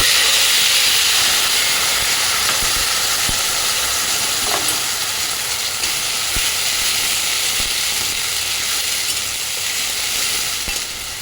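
Onion paste sizzling steadily in hot oil in a wok, a continuous close hiss and crackle throughout with no talk.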